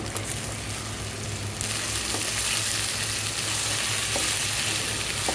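Okra frying in a pan, a steady loud sizzle that swells a little partway through, with occasional scrapes of a spatula stirring; no voices.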